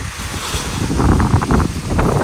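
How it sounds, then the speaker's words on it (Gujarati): Strong gusting wind roars across an open village during a storm after the rain stops, blowing leaves about, loud and continuous with heavy rumbling buffets against the microphone and no talking. "પવન ફૂલ આવે છે"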